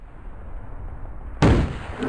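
A sniper rifle shot in the video game Respawnables: quiet low rumble, then one sudden loud, sharp blast that rings on until the end.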